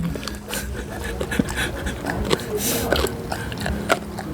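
A dog eagerly eating a chew, with wet chomping, smacking and snorting bursts close up, while a person talks and laughs nearby.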